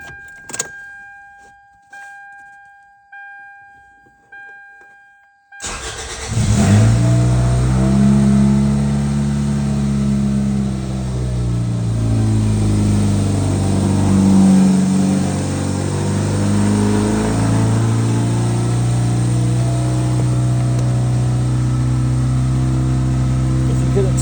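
A 2001 Chevy Prizm with a 1ZZ-FE engine and no catalytic converter gives a few clicks and chimes, then cranks and catches into a loud, steady, droning idle that holds for the rest of the clip.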